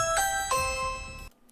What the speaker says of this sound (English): You gotta love that Ring doorbell.